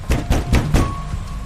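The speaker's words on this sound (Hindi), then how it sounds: "तभी दरवाजे पे जोर की दस्तक हुई।" Four loud knocks on a door as a horror-story sound effect, struck in a quick, evenly spaced sequence and heard alone.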